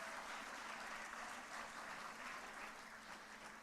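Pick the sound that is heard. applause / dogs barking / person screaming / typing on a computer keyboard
applause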